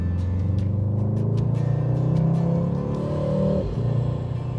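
Mercedes-AMG GT 63 S four-door coupe with a 4-liter V8, its engine running loud and close with a deep steady rumble, rising through a rev and then dropping off near the end.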